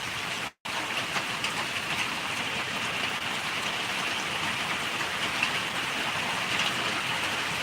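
Steady rain falls as a continuous hiss with a brief dropout near the start; no voices, just an even, unbroken wash of rainfall.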